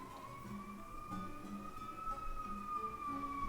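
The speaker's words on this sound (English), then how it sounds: "There's apparently an ambulance going by." An ambulance siren wails faintly in the distance, a steady high tone drifting slightly in pitch as the vehicle passes, heard alone under a low indoor hum.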